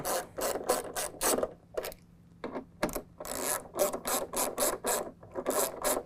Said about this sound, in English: Now we're going to tighten up our 2 9/32 at the front.